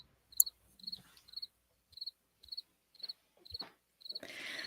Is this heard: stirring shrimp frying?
no